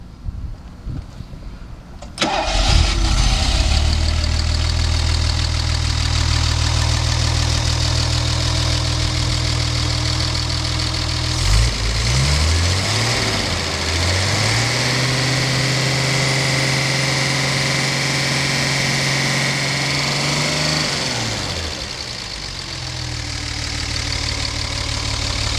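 A Mercedes 280SL engine cranks and catches, then settles into a steady, close idle that holds for over twenty seconds with only slight wavers in pitch. No one speaks over it.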